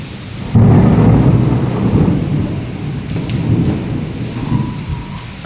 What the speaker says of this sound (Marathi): अक्षरशः वादळ येतं ना, तसा वारा सुटला आहे आणि पाऊस आहे